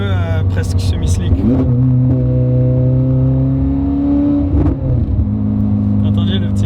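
A sports car engine revs and holds a steady mid-pitched drone, with sharp crackling exhaust pops near the start and end, loud and close, while voices talk over it.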